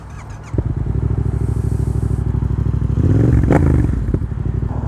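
Yamaha FZ-07 motorcycle fitted with a full aftermarket exhaust, starting up and idling with a loud, close, rapid rhythmic rumble, then a brief rev swelling louder before settling back to idle.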